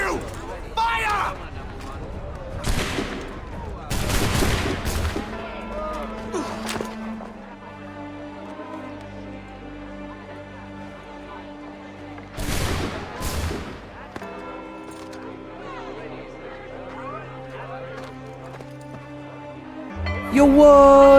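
Musket gunfire in Assassin's Creed 3, a few sharp loud volleys of shots in bursts separated by quieter stretches with voices and background music.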